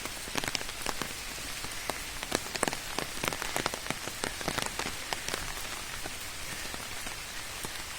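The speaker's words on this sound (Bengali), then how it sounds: "এটা হচ্ছে একটা জলাশয়, দেখতেই পাচ্ছেন প্রচুর বৃষ্টি হচ্ছে" Heavy rain pours onto a pond outside a temple, a dense continuous patter with many distinct close drops splashing on the water and nearby surfaces, steady and unbroken.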